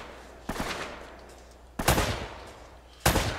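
Assault rifle gunfire in the video game Uncharted: Drake's Fortune comes in three separate bursts, each opening with a sharp loud crack and trailing into a decaying rumble, with no talking.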